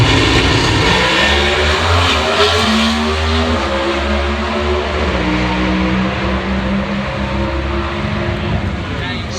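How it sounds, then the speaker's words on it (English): A Pro Stock drag racing car at Sonoma Raceway accelerates hard down the track, its loud engine roar rising in pitch through the gears and then fading slightly as the run continues. "Erica Enders getting down the racetrack"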